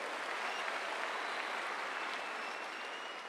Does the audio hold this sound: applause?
yes